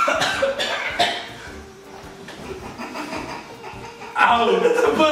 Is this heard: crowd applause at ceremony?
no